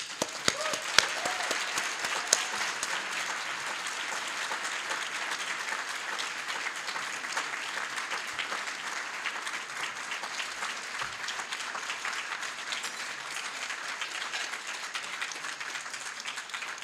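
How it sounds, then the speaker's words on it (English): An audience at a broadcasters hall of fame induction ceremony claps steadily for an inductee. The applause is sustained and even, filling the room for the whole stretch without letting up. "please join me in giving a well-deserved round of applause to inductee Donna Halper."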